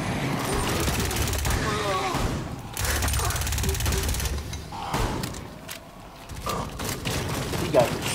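Gunfire in the Rainbow Six Extraction video game, rapid loud bursts and shots in several clusters with mechanical clatter, under and between stretches of talk.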